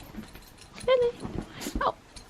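A small puppy gives high, thin whimpers and a couple of short yips, close by, with people talking softly around it.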